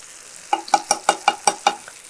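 Masala powders stirred into a pan of mutton and okra on a gas stove, giving seven evenly spaced, sharp scraping strokes that ring slightly, with a faint sizzle beneath and no talking.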